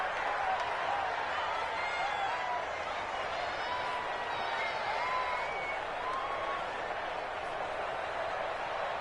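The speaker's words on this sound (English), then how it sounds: "And the home crowd applauding." Home crowd applause in a PS4 football video game, a steady, distant wash of clapping and crowd noise running the whole time at even level, with faint whistling tones drifting over it.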